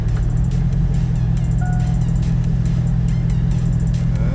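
A 2002 Cadillac Escalade fitted with new drilled and slotted rotors and brakes drives along during a brake test, its engine giving a steady close low rumble with faint ticking and a brief chirp on top.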